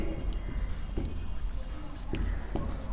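A pen scratches across paper during a Class 5 maths lesson, with short strokes and taps in an irregular rhythm, close and moderately quiet.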